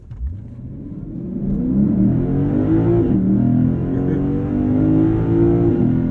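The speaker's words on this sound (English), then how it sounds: "There's no launch control, so I'm just going to leave it in Sport Plus and bury the throttle." A 2023 Lexus IS 500 V8 at full throttle in Sport Plus mode, engine note rising loudly from launch through climbing revs with brief dips at gear changes, close and continuous with no talking.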